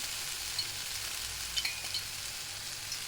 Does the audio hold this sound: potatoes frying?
yes